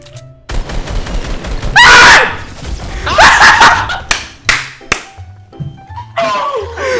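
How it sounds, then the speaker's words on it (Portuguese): In a Fortnite match, a player screams while being killed, sharp loud bursts of shrieking cries mixed with gunfire cracks and impacts, the game noise punctuated by short silences. "Só deu tempo de dar o grito"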